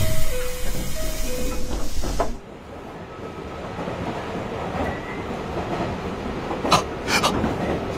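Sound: train running, sound effect in a radio drama

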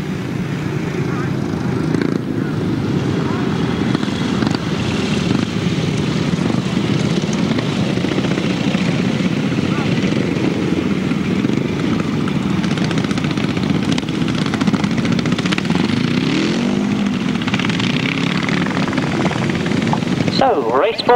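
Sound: 500cc sidecar motorcycles racing on grasstrack

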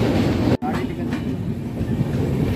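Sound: Thirukkural Express passenger train running

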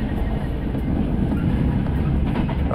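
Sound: train rattling in horror video game Reveil

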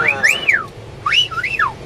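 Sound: whistling

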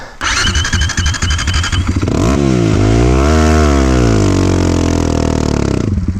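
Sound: motorcycle engine while riding up

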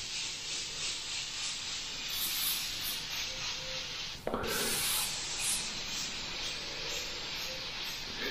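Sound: Iwata HP-BCS airbrush spraying paint

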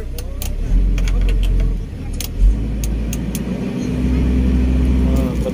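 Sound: excavator engine revving

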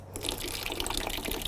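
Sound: flush water draining from Honda CBR1000RR radiator

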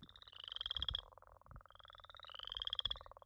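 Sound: northern leopard frogs and chorus frogs calling at night

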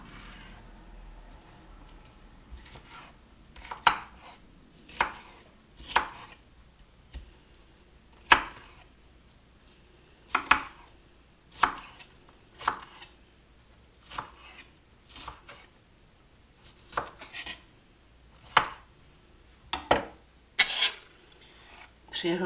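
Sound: chopping food into smaller pieces

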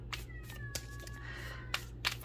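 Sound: kitten meowing loudly in another room

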